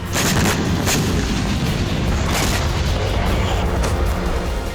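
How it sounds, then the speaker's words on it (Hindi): Heavy booming blasts, several in quick succession, dense and loud with rumbling echoes, from a US and South Korean military exercise in the Sea of Japan. "युद्धाभ्यास की लोकेशन जापान सागर होने की वजह से किम जोंग की सेना भी युद्धाभ्यास के धमाके को सुन सकेगी।"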